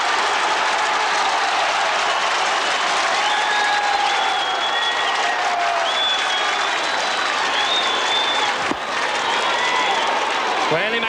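Crowd at a 1990 Ulster Football quarter final between Down and Monaghan roaring and applauding after McCartan's goal for Down, a loud sustained wash of cheering with scattered whistles throughout.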